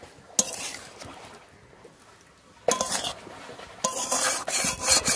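A spoon stirs salted food around a pan on the stove in a home kitchen, heard as a few short metallic scrapes and clinks, closer and busier toward the end, with quiet stretches between.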